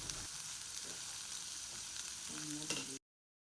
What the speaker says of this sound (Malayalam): ഇഞ്ചി ഇതിലോട്ട് ഇട്ടിട്ട് നല്ലോണം ഒന്ന് വഴറ്റിയെടുക്കണം